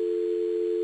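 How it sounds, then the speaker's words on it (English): A telephone line left open after a caller hung up, giving off a steady, unbroken dial tone that holds at an even loudness throughout with no voices. "Somebody hung up on the phone."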